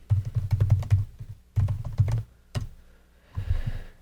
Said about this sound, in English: start typing up what you want your signature to be